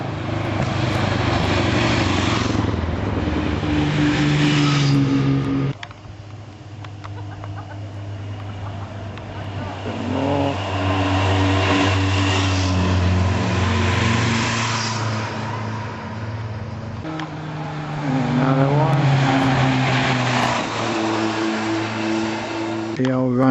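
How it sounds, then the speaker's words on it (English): Several classic motorcycles on a vintage run along a coastal road near Cork ride past one after another, their engines rising and falling as each approaches and passes, with voices talking over them. "there's some more bikes coming down the road"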